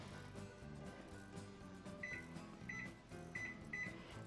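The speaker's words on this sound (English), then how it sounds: "put it back into the microwave" Faint electronic beeps come in short pairs at intervals over a low microwave oven hum, quiet and nearby.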